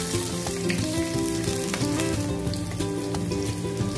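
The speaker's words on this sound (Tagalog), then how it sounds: "Ayan guys, lagyan na natin yung sibuyas bawang." Onion and garlic sauté in a pan as the base for a stir-fried bottle gourd and moringa dish with tuna. A steady sizzle runs throughout, under a constant tonal background.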